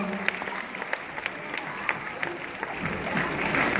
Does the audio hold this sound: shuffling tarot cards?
no